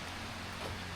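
Steady rain falls in a dense, even hiss, quiet and unbroken, with no voices over it.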